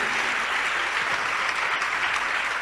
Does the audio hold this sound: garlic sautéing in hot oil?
no